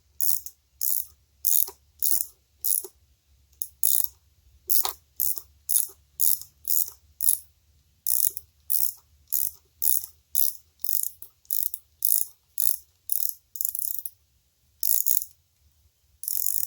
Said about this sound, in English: First bolt coming loose.